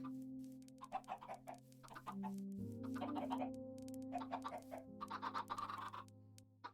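Chickens cluck in bursts of short repeated notes over a steady background hum in a farming video game, as the birds follow the player carrying seeds across the world to a farm.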